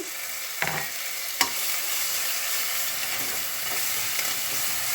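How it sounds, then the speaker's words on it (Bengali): Spice paste is added to onions frying in oil with black cumin, cardamom, cinnamon and bay leaf for an egg bhuna. It gives a steady close sizzle, with two sharp stirring clatters near the start and no talk. "পেঁয়াজ ভাজা হয়ে গেছে বাটা মশলা দিয়ে দিচ্ছি"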